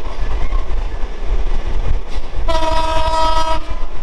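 The Ruposhi Bangla Express passenger train rumbling loudly past at close range, its horn blaring for about a second partway through, with no voices.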